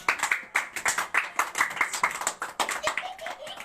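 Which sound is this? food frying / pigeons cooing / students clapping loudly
students clapping loudly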